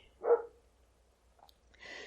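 A small dog named Tiny gives one short, fairly close bark, followed by quiet and then a faint high yip or whine near the end.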